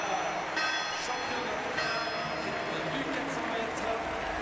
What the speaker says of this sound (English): She rings that famous bell.